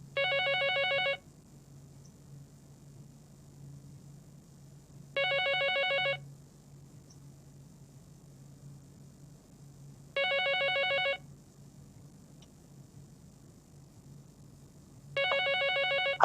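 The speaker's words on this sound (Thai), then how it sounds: "มีโทรศัพท์เนาะ" A telephone rings in the studio of a Thai monk's talk programme: four clear bell bursts of about one second each, spaced roughly five seconds apart, with only a low hum between them and no voices.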